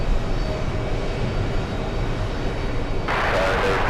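A jet airliner taking off at JFK airport, heard as a loud, steady roar of engines that grows brighter and harsher near the end.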